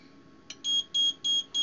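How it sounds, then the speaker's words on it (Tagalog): A fire alarm panel sounds during a zone 1 test, giving a short blip and then four loud, evenly spaced electronic beeps in quick succession, close and alone. "So, nag-alarm na yung panel."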